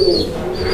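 A pair of black Danish pigeons coo steadily up close, a low throaty rolling call filling the short moment alone.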